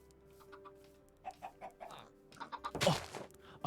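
Chickens in the video game Minecraft cluck in a series of short, distinct calls, starting sparse and growing busier and louder toward the end, with no voices.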